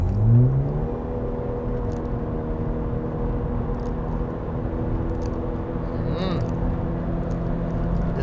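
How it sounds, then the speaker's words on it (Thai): A Honda Civic FC 1.5 Turbo accelerating on the road, heard from inside the cabin as a steady, continuous engine drone and road hum throughout. "ลองวิ่งลึกๆดู"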